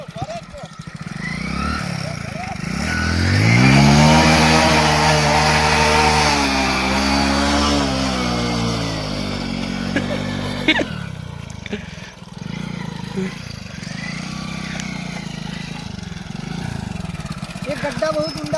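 A motorcycle engine revs hard as the bike is pushed into a muddy pond, a loud rising and falling whine that peaks then drops into sputtering and splashes, with someone talking over it.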